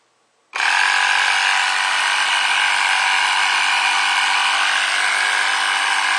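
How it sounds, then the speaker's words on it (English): Small DC compressor on a starter solar power system switching on after a brief silence, then running alone in a loud, steady, unbroken electric hum and buzz. "now to run this little compressor, you don't even need the AC. It's just a DC compressor, so you just plug it straight in."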